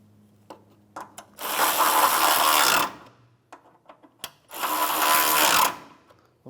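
A ratchet tightening 12mm bolts on a Hyundai Elantra radiator support, two long bursts of rapid clicking separated by a few scattered clanks and taps.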